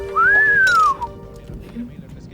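A man gives a single rising and falling whistle aimed at a girl, loud and close, and low background noise follows.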